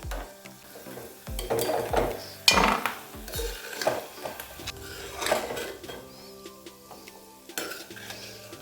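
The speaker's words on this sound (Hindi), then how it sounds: "तो इसको भी हम हल्का हल्का फ्राई कर लेते हैं, अखरोट और काजू को।" Walnuts and cashews lightly fried in a pan, heard as a soft sizzle beneath irregular close scraping and clinking of a spoon against the metal pan, with occasional sharper knocks.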